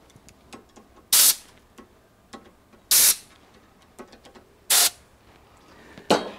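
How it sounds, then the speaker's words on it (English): Four short, sharp blasts of compressed air clear the freshly cut threads on a brake caliper bracket, with faint clicks and ticks in the quiet gaps between the blasts. "My machine doesn't have fluid to clear the threads, so use a little compressed air"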